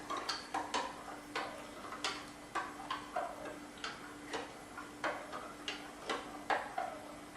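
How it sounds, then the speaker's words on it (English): A spoon stirs sugar into sweet tea for kombucha, tapping the container in a steady rhythm of light, close clinks, alone and fairly quiet. "Stir it to dissolve the sugar."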